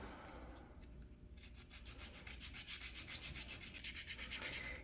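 A small wooden part for a Norwegian sailing pram model is sanded to a bevel, starting with soft rubbing and building into quick, rhythmic back-and-forth rasping strokes, close and quiet.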